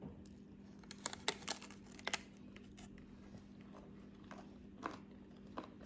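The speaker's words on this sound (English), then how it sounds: "You can hear me, they're so crunchy, but very soft inside." Someone bites into a crunchy oatmeal-flour vegan muffin, made with no oil, butter or eggs, giving a few sharp, close crunches and some quieter chewing against a faint, steady background hum.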